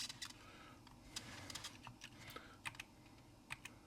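Rapid clacking keystrokes on the mechanical keyboard of a Cambridge Computer Z88, irregular close-up taps over a faint steady background hum.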